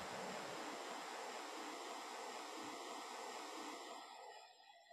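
A river ambience recording: a steady, broad rushing wash of flowing water that holds at an even level and fades slightly at the end, with no voices.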